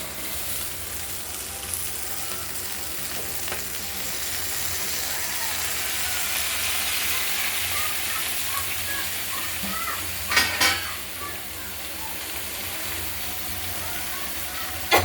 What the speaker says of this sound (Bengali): পেঁয়াজগুলো আগেই ভাজা হয়ে গেছে